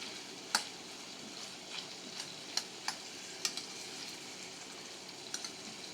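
Food frying quietly in a small pan on a hiking stove, with a few sharp clicks and scrapes from a lightweight titanium mini spatula flipping it; soft, steady sizzle with sparse distinct taps.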